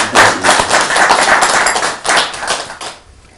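An audience gives George a loud round of applause, dense close-up clapping that carries steadily for about three seconds and then fades out.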